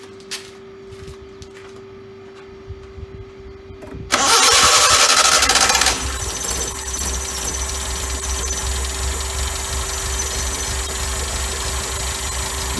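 A car engine fitted with a Weber carburettor cranks briefly, catches with a loud burst of revs, then settles into a rough, uneven idle that carries on steadily nearby.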